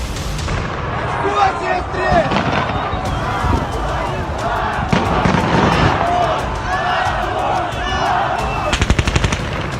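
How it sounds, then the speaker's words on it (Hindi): Gunfire crackles in bursts through a dense crowd protest in Ukraine during the war, rapid volleys and single shots popping over constant crowd noise and voices, with a sharp cluster of shots near the end. "बीच बीच में सुनाई दे रही गोलियों की तड़तड़ाहट"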